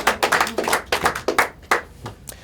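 A small audience gives Joey a round of applause at a mentalism show, with a short patter of claps in quick, uneven bursts that thins out and trails off near the end.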